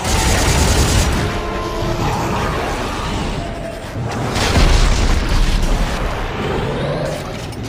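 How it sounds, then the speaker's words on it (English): A rocket launcher blast in Dead Space 3 sets off deep, loud booms and rumbling explosions that carry on for several seconds, with a second swell of blasts midway. "So I think the rocket launcher was a good choice."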